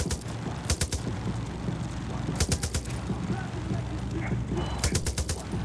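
Gunfire from the video game Far Cry New Dawn, aimed at flowers, arrives in short rapid bursts repeating about every two seconds over a steady background rumble.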